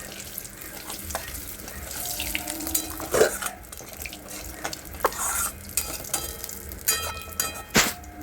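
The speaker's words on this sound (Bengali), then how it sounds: "এবারে রিফাইন তেল গরম করে তেলের মধ্যে গোটা সাদা জিরে দিয়ে দিলাম" Whole white cumin, two dried red chilies and two bay leaves frying in hot refined oil, a soft crackling sizzle broken by scrapes and clinks of a spoon stirring the pan.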